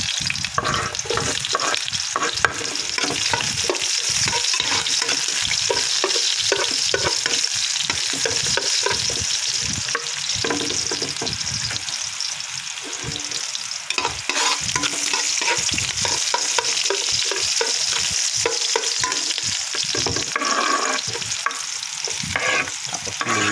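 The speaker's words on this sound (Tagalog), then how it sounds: "Magigisa na tayo." Chicken arroz caldo aromatics being sautéed in a deep pot, a steady oily sizzle broken by repeated scraping and stirring strokes of a spoon against the metal, close and continuous with no talking.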